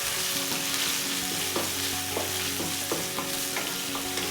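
Green chillies and okra fry in a pan with a dense, loud, constant sizzle, punctuated by regular spoon-on-pan stirring clinks and scrapes throughout.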